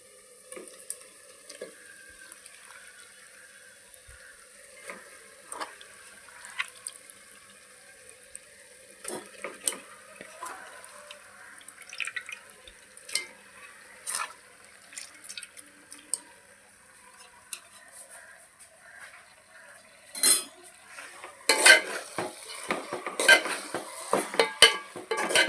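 A metal spoon clinks and scrapes in a cooking pan as farm chicken meat is stirred, with soft sizzling underneath and irregular taps that grow busier and louder toward the end.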